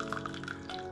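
Hot water poured from a thermos into a clear glass, a steady close liquid trickle running evenly throughout with no talking.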